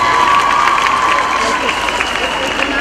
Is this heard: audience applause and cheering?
yes